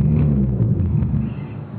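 An Ampeg SVT4 Pro bass amplifier driving an Ampeg 8x10 cabinet gives a loud, deep rumble of low bass notes that fade slightly toward the end, with no talking.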